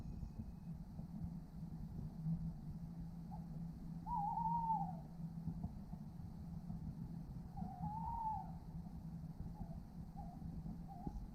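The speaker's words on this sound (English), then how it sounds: "Hear that owl?" An owl hoots twice at night near a wild campsite, two wavering calls a few seconds apart, fairly close over a faint hiss of background noise.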